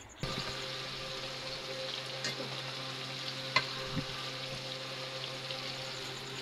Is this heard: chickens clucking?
no